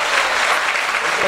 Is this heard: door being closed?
no